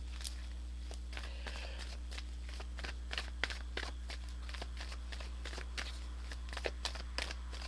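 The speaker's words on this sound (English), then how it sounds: "let me pull some Romance Angels cards" Romance Angels oracle cards being shuffled and pulled, giving faint, crisp rustles and soft snaps in an irregular patter over a steady low hum, with no talking.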